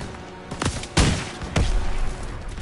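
Covering fire in a D-Day battle: several loud, close gunshot bursts crack out in quick succession over a dense, rumbling battlefield din.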